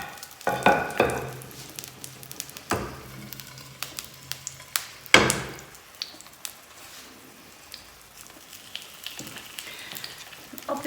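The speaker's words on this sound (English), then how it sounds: "That's a nice sizzle." Fish cakes frying in a hot pan give off a soft, steady sizzle with crackles, broken by a few louder clatters of handling.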